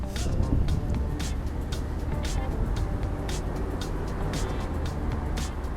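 A 5-litre M119 V8 in a Mercedes-Benz SL500 R129 roadster drives along a road, a steady, full engine rumble mixed with road and wind noise heard from inside the car.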